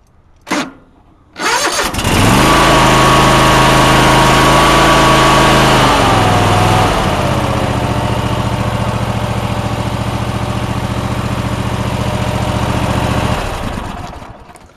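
A Honda motorcycle engine, driven home the night before and not started from cold, cranks briefly, catches and settles into a loud, steady idle that runs close up for over ten seconds before being shut off.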